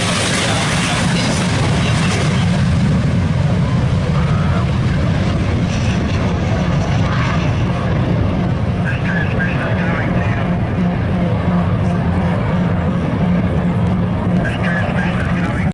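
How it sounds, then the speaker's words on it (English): An aircraft on its takeoff roll at an airshow, a loud, sustained engine roar holding steady for about fifteen seconds while an announcer talks over it. "On the takeoff roll."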